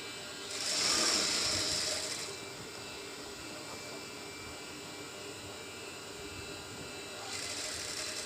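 A sewing machine stitches the seams of palazzo trousers: a short burst of whirring stitching near the start, then a quiet low hum, and stitching resumes near the end, all fairly faint.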